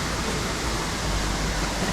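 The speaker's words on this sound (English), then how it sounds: "we encountered this nice waterfall" Waterfall on a creek during a wet ascent of Mount Maroon's south route, a steady broadband rush of falling water close by, continuous and even with no talk.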